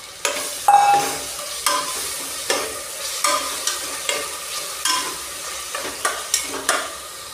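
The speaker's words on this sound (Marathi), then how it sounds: "आता ही डाळ परतत आली आहे।" Lentils sautéing in a pan with turmeric, salt and asafoetida, stirred in repeated scraping strokes about every half second over a low sizzle, close and moderately loud.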